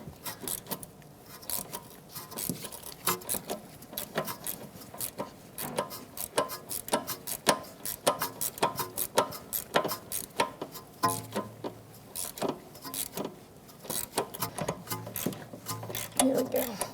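A ratchet with a 10mm socket clicks rapidly while loosening small sprayed mounting nuts on a wiring-harness bracket of a 2013-2018 Toyota RAV4, with bursts of close metallic ticking and rattling over about seventeen seconds.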